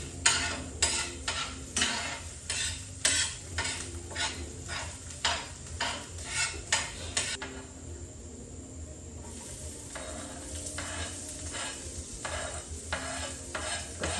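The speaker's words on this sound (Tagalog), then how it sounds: "Alagaan mo ng halo para hindi siya maami." A spoon scrapes and stirs food in a pan with a steady, rhythmic clatter and a light sizzle underneath, pausing briefly midway before the stirring resumes, close and moderately loud.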